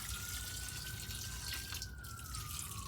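Water is poured from a kettle into a pot on a stovetop while making ramen, a faint steady trickle with a rising tone as the pot fills, no voices.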